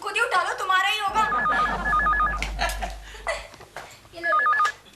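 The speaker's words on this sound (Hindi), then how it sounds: "कब से फोन बज रहा है, कोई उठाता क्यों नहीं?" An old-style telephone bell rings in repeated trilling bursts, loud and close, while people talk and laugh over it between the rings.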